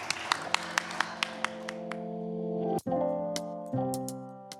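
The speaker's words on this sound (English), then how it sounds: "I'm going to clap for that." Sharp claps ring out in an even rhythm that slows and fades, then a few more claps sound over sustained tones.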